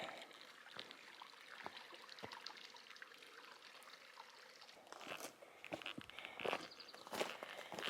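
A small stream trickles and flows across a rocky Arizona Trail path, a soft, continuous watery babble with footsteps crunching nearby, fairly quiet and without talk.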